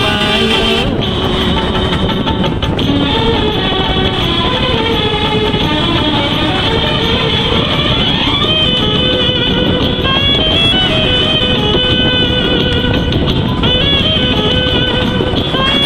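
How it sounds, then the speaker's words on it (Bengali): A motorbike rides along an empty road early in the morning, its loud, close engine droning continuously with rising and falling pitch as it shifts and changes speed. "সকাল সকাল টাইমে বাইক চালানোটা আলাদা একটা মজা লাগে"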